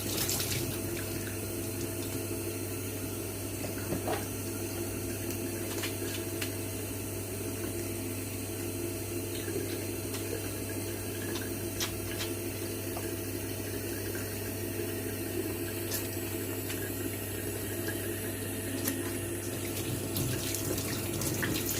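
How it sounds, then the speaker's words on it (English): Tap water runs steadily under hands being washed, a constant close hiss and splash with faint clicks and no talk. "I wash my hands."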